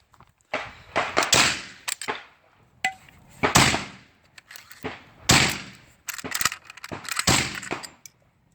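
A Golani Sporter rifle, an AK-type Galil variant, being stripped down by hand: sharp metallic clacks, slides and clicks of parts coming apart in irregular bursts with short pauses, close and loud, no voices.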